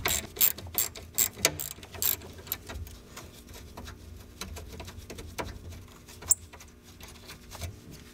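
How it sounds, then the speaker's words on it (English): Ratchet clicking in short bursts while the lower radiator bolts are removed from the AC condenser on a Volvo 850, quick close pawl clicks with pauses and small metallic knocks between them. "Remove the two lower radiator bolts"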